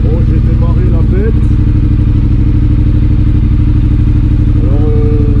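Triumph Speed Twin motorcycle engine idling after a start, a loud close continuous throbbing rumble with steady rapid pulses throughout, someone speaking over it.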